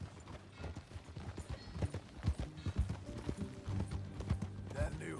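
Horse hooves clip-clop at a walking pace in the Red Dead Redemption 2 video game, a steady irregular thudding of hoofbeats close by, with game voices talking over parts of it.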